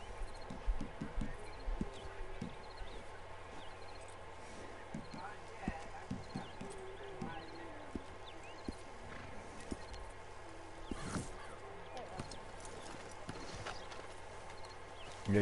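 Horse hooves clip-clop steadily at a walking pace in Red Dead Redemption 2, the uneven thuds running throughout over a low ambient game backdrop with faint voices.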